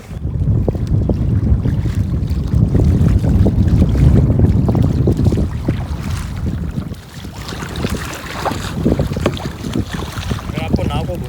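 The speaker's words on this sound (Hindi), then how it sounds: "अगर आपको नाव को घुमाना है तो आप सिर्फ एक साइड पैडल करिए और पैडल से आप सी शेप बनाइए ऐसे।" Kayak paddling on open water, with steady wind rush and water swishing from repeated paddle strokes, fairly loud and close throughout, no clear talk over it.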